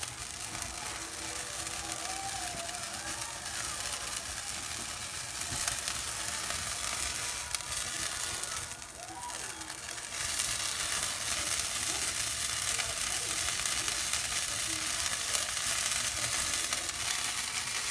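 Red wine reducing in a hot pan for beef short ribs gives a steady, dense sizzle and bubbling hiss that runs throughout, close and fairly even, with a brief dip in intensity midway.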